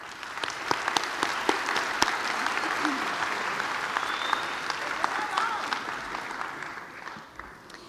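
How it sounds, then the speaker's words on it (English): Applause filling an auditorium at a high school graduation ceremony, a sustained crowd of clapping with scattered sharper individual claps and faint voices underneath, gradually dying down near the end. "Let's give our families a round of applause."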